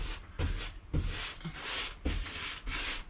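Decking oil brushed or wiped onto wooden walls with rhythmic back-and-forth strokes, a close, dry scrubbing rasp repeating about every half second, with no voices.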